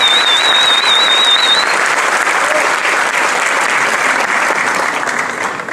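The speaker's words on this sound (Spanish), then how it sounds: "Démosles un aplauso apoteósico a estos niños." A school assembly crowd gives loud, dense applause for children at an educational event, continuous clapping that fades slightly near the end.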